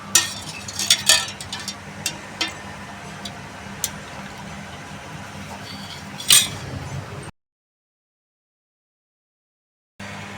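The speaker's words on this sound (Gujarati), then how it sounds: "હલાવીશું પાણી।" A spoon stirs pani puri water in a pot, giving repeated light clinks and scraping taps against the metal, close and fairly faint, ending in a brief silence.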